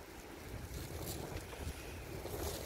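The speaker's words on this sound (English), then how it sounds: "It's a really blowing a gale." A gale-force wind rushes outside a pegged-down tent at night, a low, rumbling, gusty roar heard faintly and continuously, with no talking.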